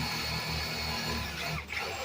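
A power drill pre-drills a decking board for a DIY planter box, a steady loud whir held for about two seconds before a brief dip and pickup.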